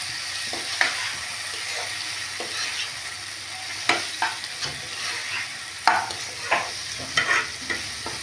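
Chopped tomato added to softened onions frying in a pan for egg curry, a steady sizzle with repeated scraping stirs every second or so, close and clear without talk.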